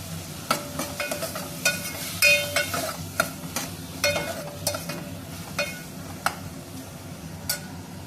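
Tomatoes frying in a pan with cumin and garlic, stirred with a spoon: a steady sizzle runs throughout, broken by repeated sharp clicks and scrapes of the spoon against the pan at an uneven pace.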